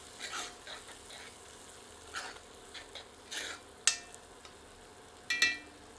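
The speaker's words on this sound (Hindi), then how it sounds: "हमने प्याज को लगभग 6 मिनट भून लिया है।" Onions with whole dried red chilli pieces fry in a pan for a spicy chicken curry, a soft steady sizzle with several scattered stirring scrapes and a couple of sharper metallic clinks near the end.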